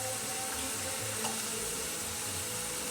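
Water poured into a stir fry sauce for a gluten-free vegan Mongolian-style stir fry, a steady continuous splashing stream running through the whole moment at close range, with no talking.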